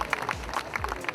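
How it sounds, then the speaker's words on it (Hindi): Clapping from an audience at the Dada Saheb Phalke Film Foundation Awards ceremony: a steady, moderately loud patter of many hands, with a few low murmurs underneath throughout. "जोरदार ताली हो जाए आभा जी के लिए।"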